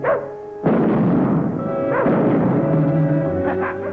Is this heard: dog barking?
yes